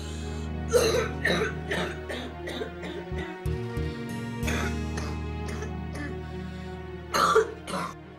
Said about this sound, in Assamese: এইটো কোনো সাধাৰণ কাহ নহয়